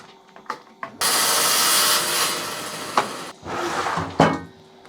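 A saw cuts through a clamped Alimajo agate with a steady, loud grinding rasp lasting a couple of seconds, broken by brief knocks and scrapes before and after, then a second shorter cutting stretch.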